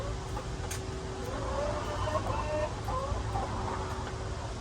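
Chickens in a chicken run give soft, scattered clucks over a steady low fan hum, with a faint tonal buzz running underneath the whole time.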